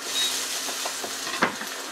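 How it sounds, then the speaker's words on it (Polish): Oil sizzles and hisses steadily as diced onion fries in a pan while a utensil scrapes and stirs, with a few soft clinks. "Na patelnię daję sobie trochę oleju"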